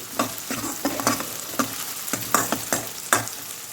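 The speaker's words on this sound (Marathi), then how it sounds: "कांदा आपण मस्त फ्राय करून घेऊ" Chopped medium onion frying with garlic in a pan for a moong dish, steady sizzle broken by repeated spatula scrapes and stirs at a brisk, uneven rhythm, close and moderately loud with no voices.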